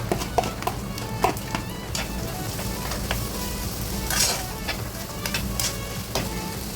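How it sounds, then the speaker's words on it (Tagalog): Onion sizzling and frying in hot oil for Lebanese frikeh, a steady close crackle with occasional stirring scrapes throughout. "Ilagay na natin itong onion."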